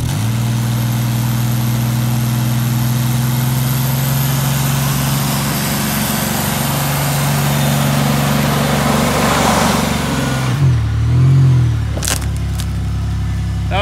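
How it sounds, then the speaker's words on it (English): A van engine revs loudly and steadily for about ten seconds during donuts and burnouts, then cuts off abruptly, leaving brief quieter engine bursts and clatter. "I've seen better donuts and burnouts on the internet."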